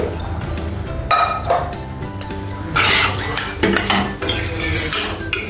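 Rice for a quick dalimbi (val) bhaat is stirred in a pot with freshly added boiled water, gas switched off: a steady run of spoon scrapes and metallic clinks against the pot, close and fairly loud.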